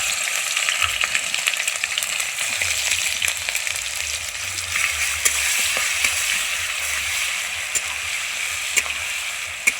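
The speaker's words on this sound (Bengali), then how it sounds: "রসুনটা ভাজা ভাজা হয়ে গেছে" Garlic frying in hot oil in a pan with caramelized sugar gives a steady, close sizzle dotted with sharp crackles and pops, under a faint low rumble, with no talking.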